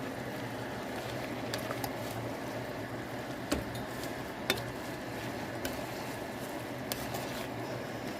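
Cube steaks being stirred together with the rest in a frying pan, with a steady low sizzle and faint scraping and clicking, a few sharper taps standing out, no talking.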